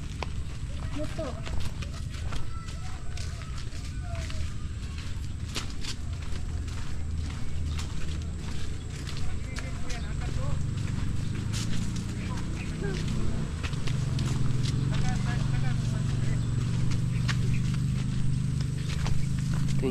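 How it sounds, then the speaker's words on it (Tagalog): Horse hooves clop steadily on the ground on a rural province farm, a continuing rhythm of hoofbeats amid outdoor background noise, with people talking over it. "Kabayo."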